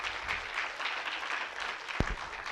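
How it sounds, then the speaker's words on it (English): An audience at a sustainability conference claps for poster award winners, a steady wash of applause at a moderate distance with one sharper knock partway through. "Give them applause."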